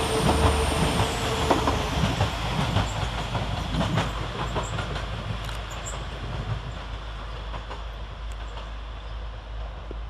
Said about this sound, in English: And here comes our train